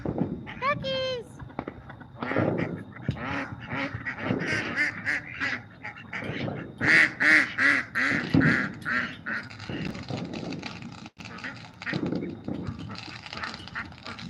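Ducks quack repeatedly at close range during a Fourth of July night, their calls mixed with people talking throughout and scattered bursts of other noise.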